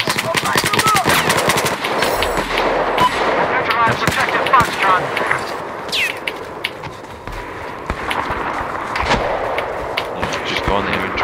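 Sustained automatic gunfire in Battlefield 4: loud, rapid machine-gun bursts and scattered heavier shots, dense and continuous, with a voice talking faintly underneath.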